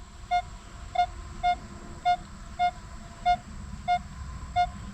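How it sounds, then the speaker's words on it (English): A metal detector sounds eight evenly spaced high-pitched beeps over a buried target, each tone short and clear above faint background hiss. "So there's our signal. Nice high tone."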